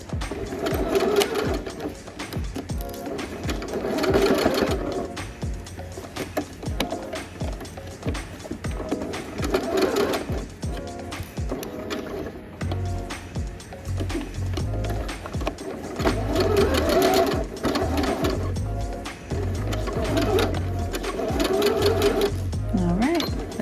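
A home sewing machine stitches a seam on a denim dress strap in a continuous, fairly close whir with small speed changes, while a person talks over it throughout.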